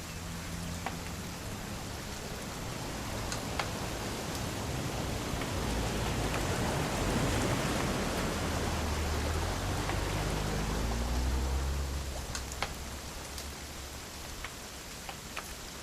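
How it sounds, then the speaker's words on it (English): Steady rain in the video game What Remains of Edith Finch hisses down in a dense, even wash, swelling slightly in the middle, with a few scattered drips and taps standing out. "It's gonna rain the whole weekend"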